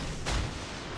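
Naval guns fire in the World of Warships: Legends game, one heavy booming shot that rumbles out over a constant background roar.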